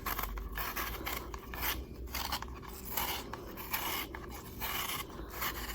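A knife peels apples by hand in a quiet room, producing soft repeated scraping and cutting strokes in an irregular rhythm, close and faint, with no talking.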